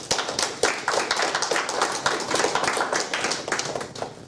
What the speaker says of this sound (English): So I think she deserves a round of applause